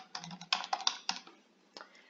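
Quick clattering keystrokes on a computer keyboard as a business name is typed, coming in close, irregular bursts with short pauses between them.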